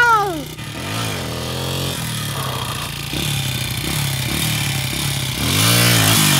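Two-stroke Honda CRF80 dirt bike engine revving and droning close by, with rising and falling throttle sweeps as the rider keeps giving gas during wheelie practice; voices call out briefly over the engine.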